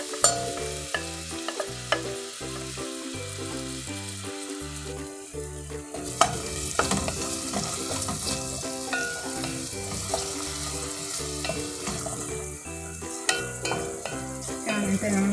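Onion sizzles and crackles in hot oil with garlic in a pan and is stirred, with steady frying and clicks from the utensil scraping the pan, while background music plays throughout.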